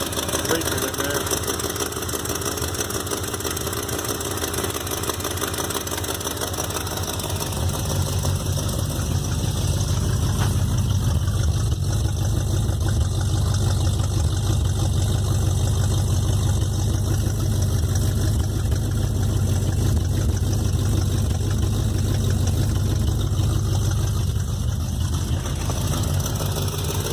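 A 1975 Plymouth Valiant engine idles with an exhaust leak, giving a steady low rumble that swells after a few seconds and then holds as a constant drone, with a raspy hiss over it.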